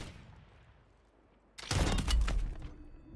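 Sniper rifle shots in Call of Duty on Rebirth Island: after a quiet stretch, a sudden loud burst of gunfire cracks in close, followed by several more heavy reports over about a second and a half.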